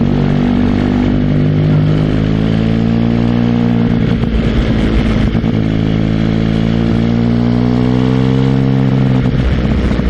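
A motorcycle ridden on the road under gentle acceleration and light braking. The engine hum is loud and close, with steady harmonic tones that slowly rise and fall, plus wind rush throughout.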